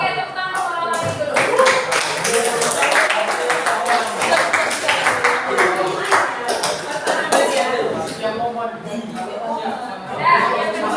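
Classroom students clapping hands together, brisk uneven applause with sharp individual claps and chatter mixed in, fading toward the end.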